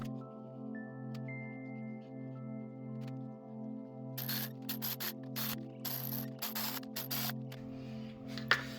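An electric ratchet runs bolts down on a Suzuki Forenza cylinder head during a head gasket repair, buzzing in several short bursts after a stretch of low steady hum, close and fairly loud.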